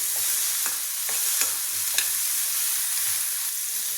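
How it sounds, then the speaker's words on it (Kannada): Tomatoes with onion frying in a pan for a kadalekalu bassaru, a steady broadband sizzle throughout with several soft stirring scrapes and clicks of a spoon against the pan, close and continuous, no voices. "ಟೊಮೆಟೊ ಹಣ್ಣು ಸ್ವಲ್ಪ ಸಾಫ್ಟ್ ಆಗೋ ತನಕ ಫ್ರೈ ಮಾಡ್ಕೊಬೇಕು"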